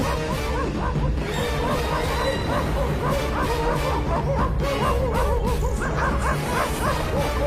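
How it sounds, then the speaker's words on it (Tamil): Several cartoon dogs bark and yip in a noisy, continuous commotion, with whimpers mixed in amid a busy, cluttered background. "ஐயோ நாய்கள்,"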